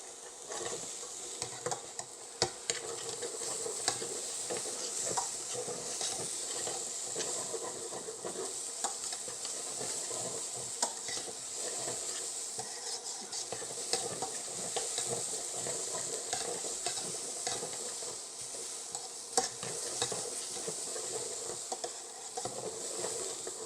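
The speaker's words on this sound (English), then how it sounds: "we're going to throw in 15 milliliters or 1 tablespoon of finely chopped garlic and cook for 1 minute with the garlic in" Finely chopped garlic frying in a pot for a beef stew, a constant close sizzle with repeated scraping and clicking of a spoon stirring, no talking.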